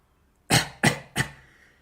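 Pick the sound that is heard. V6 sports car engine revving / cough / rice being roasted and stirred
cough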